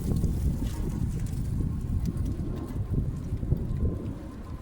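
Strong wind gusts buffet the microphone outdoors on a snowy December day in Detroit, giving a constant low roar and rumble for several seconds with no speech.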